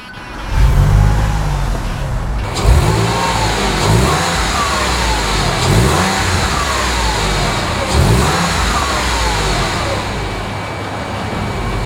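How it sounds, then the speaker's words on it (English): A 1999 Porsche 911 Carrera engine fires up and revs repeatedly, loud and close, with a series of rising and falling throttle blips over a steady idle. "How about I go ahead and start it up for you? And you can hear sound that's distinctively Porsche."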